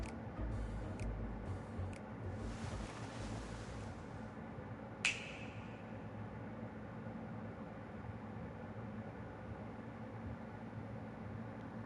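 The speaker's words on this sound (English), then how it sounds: "It's all about the finger snap." A finger snap rings out in the Final Fantasy XIV video game. A few brief crackling bursts come first, then one crisp, sharp snap stands out against a steady low ambient hum.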